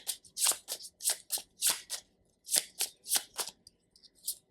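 Tarot cards being shuffled by hand, a run of about a dozen quick papery riffles and slaps in an uneven rhythm, close and clear with no talking.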